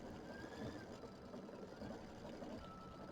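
A quilting machine stitching a design, a steady low mechanical whir and rapid needle hum running continuously at a faint level, with no talking.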